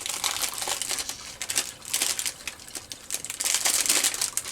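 Plastic packaging from craft store products crinkles loudly and continuously up close, a rapid, crackly rustle with no talking over it.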